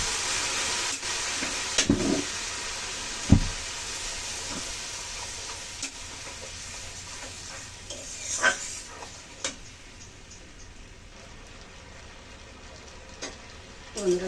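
Turmeric and soaked chili paste hitting hot oil in a pan, giving a steady soft sizzle throughout with a few sharper crackles and stirring clinks, close and moderately quiet.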